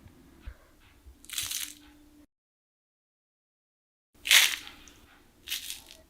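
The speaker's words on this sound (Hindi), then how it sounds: "कितने कुरकुरे हैं" Crispy fried rice pakodi fritters (chawal ki pakodi) crunch between the teeth in short, close bites: one crackle, a stretch of silence, then two more sharp crunches.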